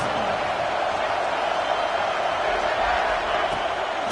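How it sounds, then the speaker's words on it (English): Football stadium crowd roaring to rattle the offense, a dense steady wall of cheering and noise lasting throughout, loud and continuous. "This crowd trying to make life miserable for this offense."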